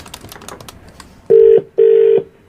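A telephone number is dialed for a radio prank call: two loud, steady electronic beeps, the first short and the second slightly longer, sound alone after a faint, noisy lead-in.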